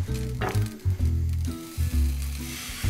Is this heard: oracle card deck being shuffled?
no